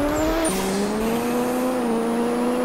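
A 3700hp C6 Corvette launches in Pixel Car Racer, engine note stepping down at a quick gear change then climbing steadily, loud and close with a brief tire squeal at the start.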